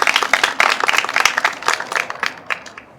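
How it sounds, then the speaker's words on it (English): Applause at a press conference announcing a new interim shelter, a crowd of hands clapping steadily for about three seconds before gradually thinning out, with no talking over it. "If we can give them a round of applause,"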